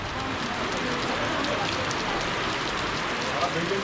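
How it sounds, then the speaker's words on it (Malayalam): Heavy rain pouring steadily during a motorcycle trip near Manali, a dense, unbroken hiss of drops striking surfaces close by, loud and constant throughout. "നല്ല മഴയായിട്ടോ, തകർത്ത് പെയ്യുന്നുണ്ട്."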